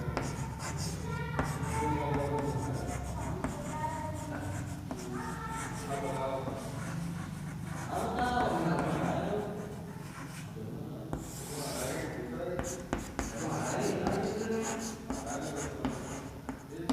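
Chalk or marker scratching and rubbing across a board during a maths lesson on probability, faint rasping strokes running under a teacher's continuous explanation.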